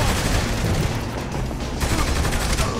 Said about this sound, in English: Open fire! You open fire.